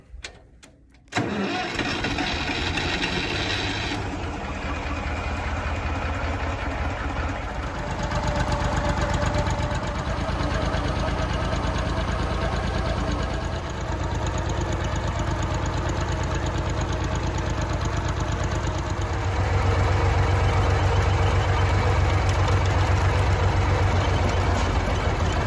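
An old engine cranks briefly, catches and settles into a steady rough idle, close and loud, rumbling continuously with a slight knocking texture and a small rise in revs near the end.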